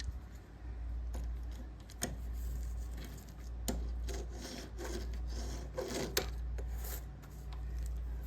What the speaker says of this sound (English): These front wheels are screwed up. I don't know if you can hear it. They rub like crazy.